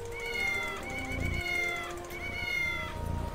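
A cat in the Barbie Riding Club video game meows a few times in short rising calls, clear and close, over a faint background hum.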